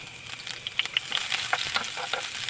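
Chopped garlic sizzles in hot oil in a pan for a sweet and sour sauce, a steady close crackle with small pops scattered throughout and no talking.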